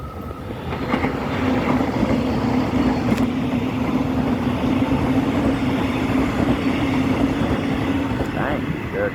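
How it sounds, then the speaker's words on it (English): A Melbourne Metro suburban electric train runs past on the new rail section at Seaford, a loud, steady rumble and drone with wheel clatter lasting several seconds, heard close to the track. "we've got a train coming from the other direction"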